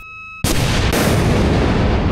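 Mistral missile launched during a live-fire military exercise, heard as a sudden loud blast that becomes a sustained roaring rush close by, after a short quiet hum.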